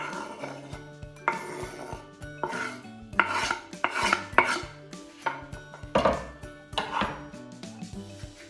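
Baked rice mixture with eggs being stirred and mixed in a dish, with repeated scraping, clinking strokes in an irregular rhythm, close and fairly loud.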